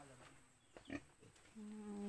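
A large pig grunts a couple of times close by against a quiet outdoor farm background, followed by a low droning hum.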